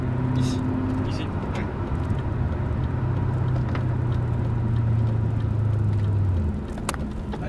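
German 4.0-litre V8 car engine on the move, a loud continuous low rumble from inside or near the car, with the drone shifting a little and easing off toward the end.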